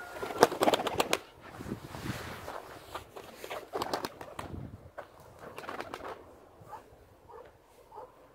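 White pigeon cooing close by, a few soft throaty coos with some wing rustling and shuffling, a louder burst at the start then quieter calls trailing off.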